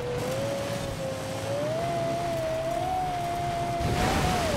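A Lexus LFA in the Forza Horizon 4 racing game, its engine note holding a steady rising whine that climbs gradually and stays loud and continuous without talk.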